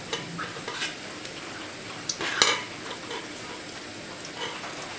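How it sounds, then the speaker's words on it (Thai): Garlic frying in oil in a pan, for a fried pork tripe dish, makes a soft, low sizzle broken by occasional utensil scrapes and clinks against the pan. "พวกกระเทียมที่เราทอดนี่ถ้าเกิดว่ามัน สุกก่อนมันไหม้นะครับ เราก็ตักออกก่อนนะฮะ"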